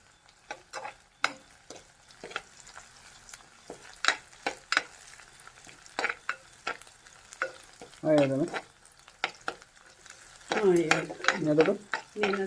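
Green chilies and shallots sauté in a pan for a Kerala fish curry: a faint sizzle broken by sharp, scattered stirring clinks and scrapes, with brief bursts of voice near the end.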